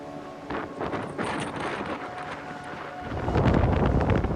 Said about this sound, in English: It's cloudy, extremely windy.